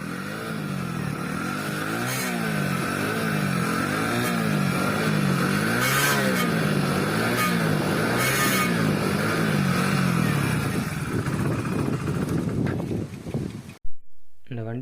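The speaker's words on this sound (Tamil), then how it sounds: "வண்டியோட சவுண்டு எப்படி இருக்குன்ட்டு நான் உங்களுக்கு ஸ்டார்ட் பண்ணி காட்டுறேன் பாருங்கள்." A Hero HF Deluxe motorcycle engine idling and running steadily with a slightly high-pitched, pulsing tone and a few throttle blips, close and fairly loud, before cutting off near the end.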